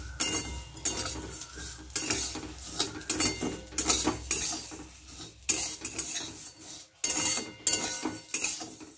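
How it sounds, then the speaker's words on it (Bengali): Dry vermicelli, two packets, roasted in a pan for Bengali shemai, with a spoon scraping and clinking against the metal in a steady, busy stirring rhythm, close and fairly loud with no talk. "সিমইটাকে লাল লাল করে ভেজে নেবো।"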